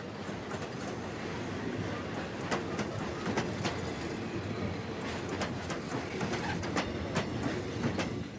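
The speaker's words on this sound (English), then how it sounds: "trains still carry Mozambican workers to and from the gold mines of South Africa" A train in Mozambique carrying workers toward the South African border rolls along the rails in a steady rumble, with repeated clickety-clack wheel knocks and no voices.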